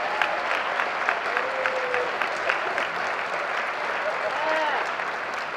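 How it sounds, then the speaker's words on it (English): Steady audience applause fills a school auditorium during a high school National Honor Society induction ceremony, dense and continuous throughout with faint overlapping voices. "Let's give them a round of applause for their continued hard work and commitment"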